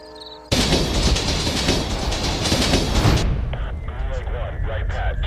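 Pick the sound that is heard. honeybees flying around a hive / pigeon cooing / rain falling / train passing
train passing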